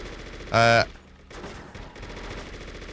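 A single loud burst of automatic gunfire from an AK rifle in the video game True Crime: New York City, lasting a fraction of a second, then quieter game ambience underneath.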